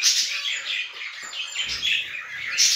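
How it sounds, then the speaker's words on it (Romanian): Canary chicks chirp in a steady run of thin, high calls while being fed in a cage, a close, busy twittering that carries on throughout. "Uitați cum hrănește puii."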